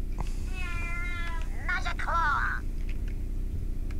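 A cat meows twice in the video game Shogo: Mobile Armor Division, with short tonal cries rising over a steady low background hum and a possible voice nearby.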